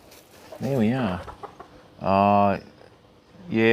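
Isa Brown hens clucking in a garden before dawn, close by, with a few short, throaty calls separated by brief pauses.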